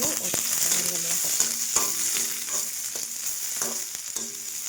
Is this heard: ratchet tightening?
no